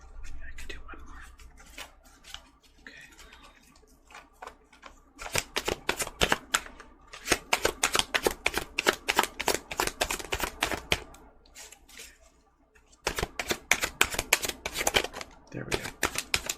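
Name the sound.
shuffling tarot cards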